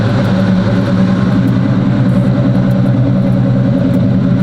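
A Box Chevy with a custom exhaust idles up close, a loud, steady deep rumble with a throbbing low-end growl that holds constant, with no talking over it.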